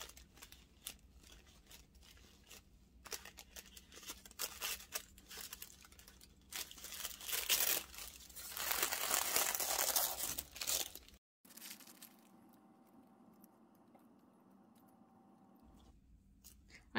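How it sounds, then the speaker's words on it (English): Paper tears and crinkles as it is carefully pulled off the hem of a stretchy velvet dress, a close run of rustling and ripping that builds, then stops before a quieter stretch. "Just going to carefully remove all that paper."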